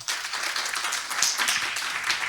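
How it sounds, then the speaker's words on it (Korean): An audience at a National Archives lecture on AI breaks into dense, even applause, a bright continuous wash of many hands clapping close by with no talk. "이게 맞으면 박수 부탁드립니다"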